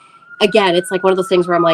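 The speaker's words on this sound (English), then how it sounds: "sorry about the siren." A police siren passes outside, its steady wailing tone running behind and beneath a person talking indoors throughout.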